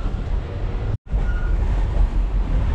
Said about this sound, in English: So this is probably one of the most beautiful train rides we have ever taken.